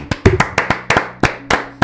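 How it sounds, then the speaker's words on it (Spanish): Sharp, separate hand claps at a Spanish-language church service closing a segment, about ten in a quick, slightly uneven rhythm, close and loud with no voices. "lo terminamos siempre con un aplauso"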